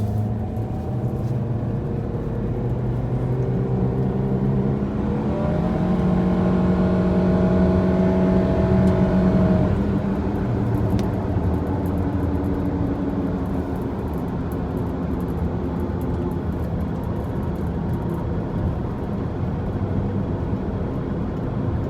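A Nissan Rogue running rough while driving with its O2 sensors disconnected: a steady, continuous engine and road drone inside the cabin, with a slight swell of engine tone midway, no talk.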